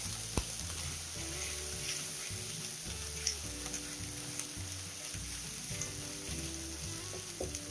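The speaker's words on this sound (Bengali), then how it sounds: "এবার আমি কড়াইয়ের মধ্যে কাঁচা লঙ্কা চিরা দিয়ে দিলাম।" Slit green chillies hit hot oil in a wok already holding ginger paste, garlic paste and garam masala, giving a steady close sizzle and crackle for several seconds with faint stirring and a low tonal hum underneath.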